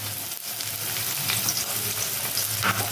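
Finely chopped onion sizzles steadily in a hot pan with cardamom, a continuous close crackle with occasional stirring scrapes.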